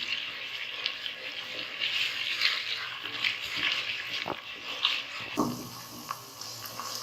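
Chunks of meat sizzling with sugar in a pan for mutanjan sweet rice, a steady crackling hiss with occasional stirring clinks and scrapes, fairly quiet and close.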